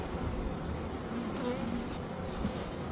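Honeybees drone steadily and close by while a hive is opened for an early spring inspection in Melbourne, a dense unbroken buzz with faint individual bees passing.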